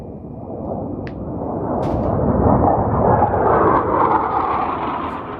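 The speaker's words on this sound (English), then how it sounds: "pardon the noise, the jet noise" A loud, broad roar swells and fades as military jets pass overhead, rumbling steadily with no voices.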